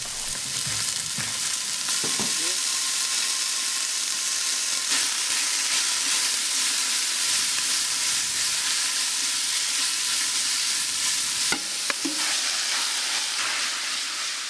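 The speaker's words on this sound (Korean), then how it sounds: "더덕, 도라지, 초석장과 함께 봄나물을 볶습니다." Steady sizzling of spring greens with deodeok and doraji roots being stir-fried in a hot pan, a continuous loud hiss with occasional scraping clinks, no voices.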